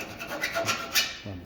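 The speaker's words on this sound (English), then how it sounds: "go through with my round file, put a little chamfer on the ends" A round file rasps in a few short strokes as it chamfers the ends of a bushing for a pontoon boat door hinge, close and brief.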